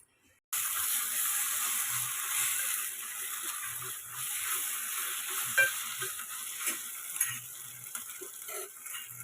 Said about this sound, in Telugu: ఇప్పుడు ఇందులో కొంచెం అల్లం వెల్లిపాయ పేస్ట్ అయితే వేసుకుంటున్నా. వేసుకున్న తర్వాత ఇప్పుడైతే కలుపుకోవాలి.